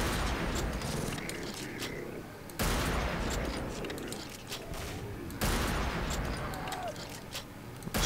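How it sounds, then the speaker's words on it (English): Gunfire and explosive rocket launcher blasts in the video game Killing Floor, a dense continuous barrage of shots and bursts with loud impacts at intervals, speech present in the mix. "Stop trying to shoot me with that damn rocket launcher."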